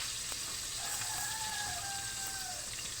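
Dried fish (bulad) frying in a pan, a faint, steady sizzle in the background, with a distant rooster crowing partway through.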